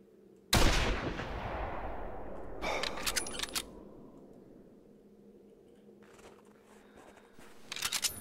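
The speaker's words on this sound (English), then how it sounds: "I think I can shoot this from here with this rifle" A single sharp rifle shot in the hunting game theHunter Classic, set in snowy White Rime terrain, with a long decaying echo, followed by a few faint clicks and rustles of handling.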